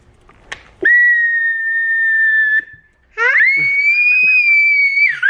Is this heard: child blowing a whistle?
yes